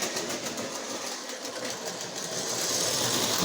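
A model train engine runs along freshly worked track on a layout under construction, giving a steady, close motor whir that grows slightly louder toward the end, with no talking.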